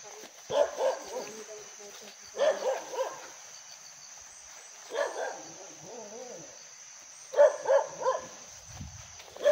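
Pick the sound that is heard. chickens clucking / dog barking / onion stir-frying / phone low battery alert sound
dog barking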